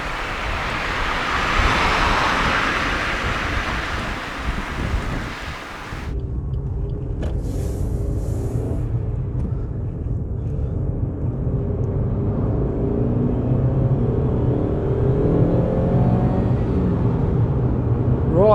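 A Suzuki Ignis with a 1.2 litre four-cylinder engine driving on a B road: a steady low engine and road rumble with wind noise, preceded by a brighter rushing wind-buffeted stretch that cuts off sharply.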